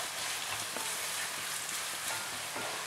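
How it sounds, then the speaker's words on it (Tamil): Onions frying with garlic and rock salt in a pan until browning, a steady dense sizzle with faint occasional stirring scrapes, close and continuous. "இப்போ இந்த வெங்காயம் வந்து நல்லா பொரியணும்."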